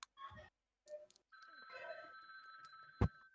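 Telephone ringing tone from the party game Gartic Phone, a steady electronic ring sustained for a couple of seconds, mixed with game sounds and a brief thump, with people talking before it.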